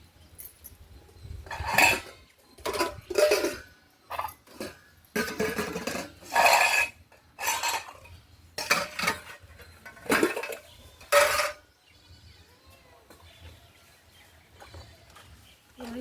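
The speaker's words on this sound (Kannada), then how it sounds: "ನಾನು ಸ್ವಲ್ಪ ಪಾತ್ರೆಗಳೆಲ್ಲ ಇಟ್ಕೊಂಡಿದ್ದೆ ಎಲ್ಲನೂ ಎತ್ಕೊಳ್ಳೋಣ ಅಂತ ಬಂದಿದ್ದೀನಿ" Cooking pots and metal vessels are picked up and set down in a kitchen, giving a series of bright clanks and clinks in irregular bursts, fairly close, with quiet pauses between.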